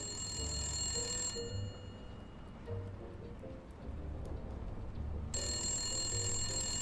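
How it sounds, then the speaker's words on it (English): A telephone rings with repeated bursts of electronic tone against a steady background hiss, clear and moderately loud with short gaps between rings. "Our studio line is ringing here, folks."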